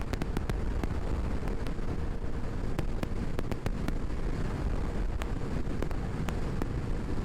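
A Honda PCX 150 scooter ridden at top speed, fitted with Malossi parts, brings heavy steady wind roar over the engine with a low rumble, and scattered sharp ticks and clicks throughout.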